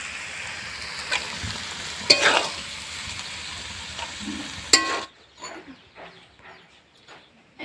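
Fish fries in a pan with a steady low sizzle, broken by a few sharp clatters of a utensil, before the frying noise cuts off abruptly, leaving quieter soft handling sounds.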